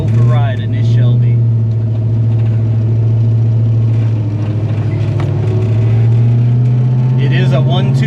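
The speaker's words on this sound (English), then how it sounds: "we're going to go for a ride in this Shelby" A 1968 Shelby Mustang GT350 with a four-speed manual runs steadily as it drives out of a parking lot, its deep engine drone loud and continuous from cabin distance, with a few faint higher rattles over the rumble.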